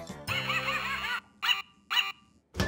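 A cartoon dog gives a long, warbling whimpering bark followed by two short, sharp barks with pauses between, then a final burst, clear and close with no background.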